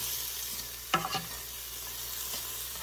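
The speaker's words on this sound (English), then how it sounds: "Go ahead and add our onions here. Give them a nice saute." Onions sautéing in a Ninja Foodi Possible Cooker Pro, a soft steady sizzle with a brief burst of clatter as they are stirred in, quiet and close with no talk.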